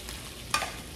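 A single quick scrape as Russian combat ration stew of beans, carrots and meat is stirred in a pan, a brief spoon sweep over a low steady background.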